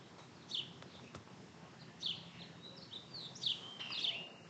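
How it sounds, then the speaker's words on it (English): Talkative birds chirp at an outdoor baseball game, four or five bright, sharp calls spaced across several seconds over faint background ambience. "Got some very talkative birds."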